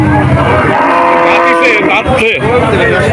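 Cattle low at a busy village cattle market, giving a loud, close, drawn-out moo with a few shorter calls after it, over steady crowd murmur.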